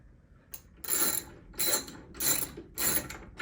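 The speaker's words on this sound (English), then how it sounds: "just use your socket set" A socket set ratchet tightens bolts on a newer Stern Teenage Mutant Ninja Turtles pinball machine, giving four distinct bursts of rapid clicking, each lasting about half a second and separated by brief pauses, loud and close.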